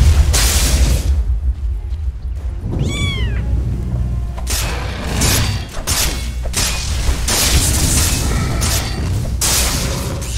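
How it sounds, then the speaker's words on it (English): Dota 2 match audio during an attack on a tower: dense, loud game effects with repeated booming impacts and clashes, plus a brief rising chirping cue near the start, running continuously without speech. "Dire's middle tower is under attack."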